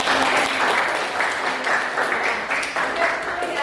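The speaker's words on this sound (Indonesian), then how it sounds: "Oke, tepuk tangan." Classroom applause: a dense, steady patter of many hands clapping together for a few seconds, close and fairly loud throughout.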